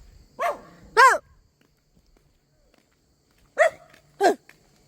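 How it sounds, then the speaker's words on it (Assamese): A dog barks twice, pauses for a few seconds, then barks twice more; sharp, fairly close barks against otherwise quiet surroundings. "কুকুৰ ইমানকৈ ভুকি আছে"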